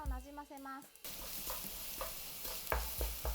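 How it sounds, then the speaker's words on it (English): Green onions hit a hot pan of sesame oil and sizzle loudly, followed by steady frying with intermittent scraping and tossing sounds from a utensil. "Add the green onions and toss with oil."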